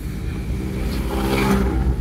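A car drives past on a road during a beginner driving lesson, engine rising steadily as it nears and swells to its loudest toward the end, with no talking.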